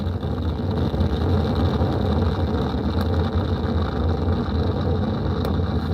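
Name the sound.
Artemis 1 rocket liftoff, RS-25 engines and solid rocket boosters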